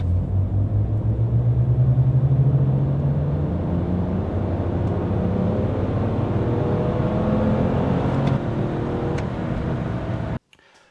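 A BMW E46 engine rumbles and climbs steadily in pitch as it accelerates hard through the gears from 0 to 100 km/h, loud and close, then cuts off abruptly at the end.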